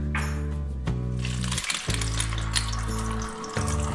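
Tomato paste sizzles as it hits hot oil after fried spices, a loud hissing fry broken by short pauses and clattering bursts.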